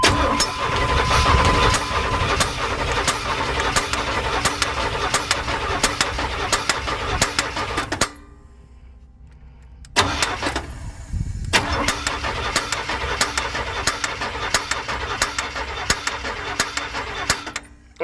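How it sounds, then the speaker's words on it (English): A car engine runs steadily with a metallic valve ticking layered over it, loud and close; it cuts out briefly around the middle, then resumes. "I think the metal sound is this valve right here"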